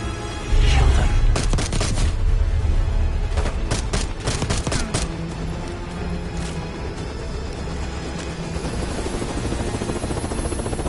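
Gunfire in Call of Duty Black Ops 6, with bursts of loud shots and booms in the first half over a constant helicopter-like roar, the shooting thinning out later while the drone continues.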